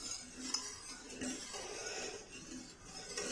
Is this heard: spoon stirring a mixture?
yes